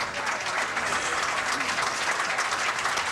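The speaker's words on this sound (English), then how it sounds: "Think the crowd is pumped up, Mike?" A bowling crowd at a 1987 Kessler senior/touring pro doubles championship match cheers and applauds after a strike, a dense, steady wash of clapping and shouts that fills the whole moment at close range.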